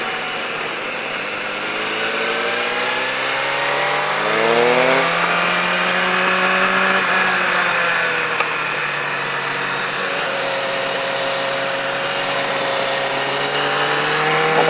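A motorcycle engine howls on a race track during a riding school session, its pitch climbing in rising sweeps, dropping briefly as gears shift, then accelerating again, loud and steady close to the rider.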